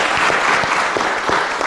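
A studio audience at an evening television show bursts into dense, loud applause that holds steady through the short moment.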